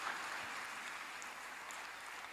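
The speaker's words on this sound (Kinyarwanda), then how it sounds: "Tuyakomera amashyi ayo maraso ya Yesu." Congregation clapping in a church during a sermon, a steady wash of many hands applauding together at moderate distance, even and sustained throughout with no pauses.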